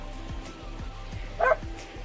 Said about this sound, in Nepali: कुकुर पनि भुक्दैछ